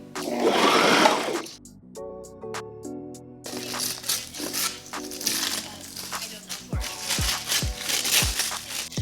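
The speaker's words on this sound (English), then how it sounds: "So all the balls are sewn onto the waistband. Let's sew the top." A sewing machine stitches beach balls onto an elastic waistband, its motor whirring in bursts between pauses, with crinkly plastic rustling and a few sharp knocks, close by and fairly loud.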